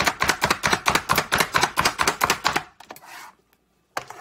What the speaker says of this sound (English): keep going all the way until you have all your peppers diced up